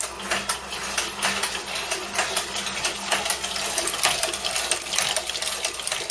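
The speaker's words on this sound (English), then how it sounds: "I'm just going to fire that up at 12 volts and see how the pump runs" A small peristaltic pump runs on a 12-volt bench supply, giving a fairly loud, continuous rapid ticking and whirring chatter with no talking over it.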